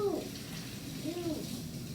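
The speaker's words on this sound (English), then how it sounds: "Can you go wash and rinse it right now?" Tap water runs steadily while something is rinsed, a continuous close splashing hiss through the whole stretch, with brief vocal sounds at the start and midway.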